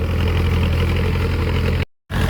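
Diesel engine of a Chinese-made Power Tech tractor with large tyres plowing a rice paddy, a steady, loud, close idling rumble running throughout, cut off briefly near the end before resuming.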